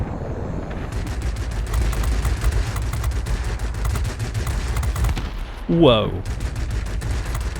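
Rapid aircraft cannon fire from a Yak-19 fighter in World of Warplanes, a sustained rattling burst over engine drone, loud and close, with a brief exclaimed voice near the end.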